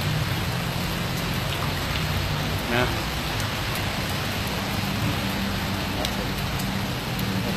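Steady rain pours down outdoors in Thailand, a dense, even hiss that stays constant throughout with a brief soft voice murmuring partway through.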